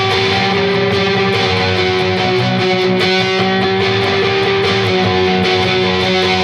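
Distorted electric guitar playing a riff with half-step bends, a dense, fast, repeating heavy pattern that is loud and close and plays alone without talk.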